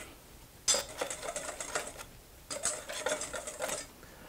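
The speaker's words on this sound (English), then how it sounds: "I want to use a whisk, combine them." Flour with black pepper and salt gets whisked in a bowl, two bursts of quick rhythmic metallic scratching separated by a short pause, close and fairly quiet.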